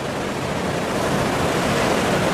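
Large ocean waves crash on the south coast of Java near a cave, a loud, dense, continuous roar of surf with wind, alone and unbroken.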